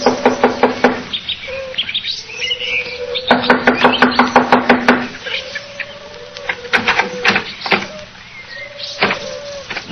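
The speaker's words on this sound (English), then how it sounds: "I'll knock on the door." Knocking on a wooden door, heard as two bursts of rapid, loud raps in quick succession, with a few sharper single knocks and some faint chirping tones between them.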